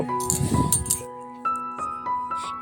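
A utensil stirs fried cauliflower and paneer in a pan, giving clinks and scraping clatter, busy at first, then sparser taps, with a faint steady tone running underneath.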